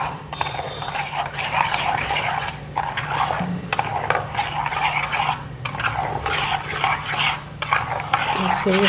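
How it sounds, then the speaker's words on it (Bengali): Semolina being stirred into a thin milk-and-sugar batter for a Christmas cake, a steady scraping and sloshing of a spoon against the bowl that continues close and fairly loud throughout with no talk. "এবার সুজিটাও এর সঙ্গে মিক্স করতে হবে।"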